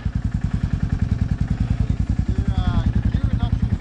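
A Honda Fourtrax 300 ATV idles and putters nearby on its first ride, its steady, fast-pulsing engine rumble continuing throughout while people talk over it.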